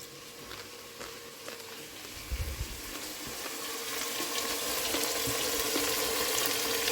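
A pot of curry base for a Punjabi potato and chicken curry sizzles and fries steadily up close, the hiss building slightly louder over several seconds, with an occasional scrape of stirring.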